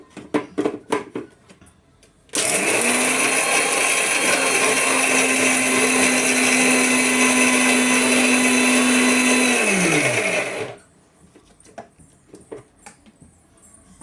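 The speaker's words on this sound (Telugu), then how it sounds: "పల్లీలు నువ్వులు రెండు కలిపి మిక్సీ పట్టండి." A kitchen mixer grinder whirs loudly and steadily for about eight seconds, grinding roasted peanuts and sesame seeds into powder, then winds down with a falling pitch and stops abruptly, with faint kitchen clatter before and after.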